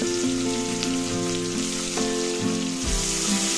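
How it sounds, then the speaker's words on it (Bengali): Chopped onions fry in oil for chicken biryani, giving a steady, dense sizzle that carries on evenly throughout with no talking. "পেঁয়াজটা নাড়াচাড়া করে একটু হালকা ব্রাউন হয়ে আসা পর্যন্ত আমরা ভেজে নেব"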